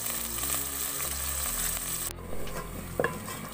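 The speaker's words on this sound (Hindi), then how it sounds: "चार मैंने टमाटर लिए हैं, इनको काट लिया, शामिल कर लेंगे" Chopped tomatoes frying in a pan give a soft, steady sizzle with stirring scrapes. A low hum runs underneath, then drops away partway through, leaving a quieter sizzle and a couple of sharp clinks near the end.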